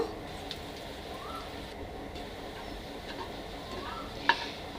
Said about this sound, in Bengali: পেঁয়াজ এবং শুকনো মরিচ আবারও ভালো করে ভেজে নিব